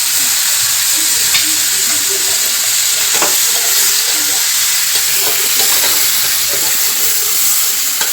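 Chicken with turmeric and salt sizzles steadily in a hot pan, a continuous frying hiss with occasional stirring clatter close by.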